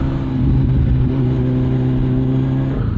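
A Kymco S400i motor scooter's engine runs in a loud, steady drone close by, holding a smooth even tone for several seconds with no talking.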